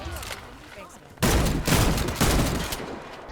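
Rapid gunfire in the online shooter Warface, a dense burst of loud automatic shots starting abruptly and continuing in close, heavy volleys after a moment of talk.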